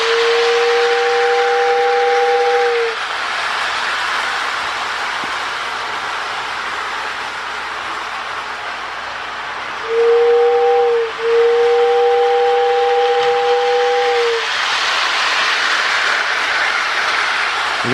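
Whistle of a Lionel 1666 toy steam locomotive on a model railroad, a steady two-tone horn held for about three seconds, then after a pause a short toot and another long blast, fairly loud and close.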